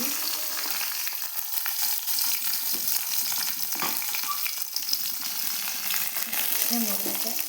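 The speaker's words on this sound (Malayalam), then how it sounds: "വഴറ്റിയെടുക്കാം" Curry leaves, ginger and green chilies sautéing in a pan with urad dal, a steady close sizzle and frying crackle with occasional stirring, no talk.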